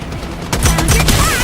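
Rapid gunfire bursts in the video game Stirnova, loud and close, a dense clatter of repeated shots with booming impacts over game background noise.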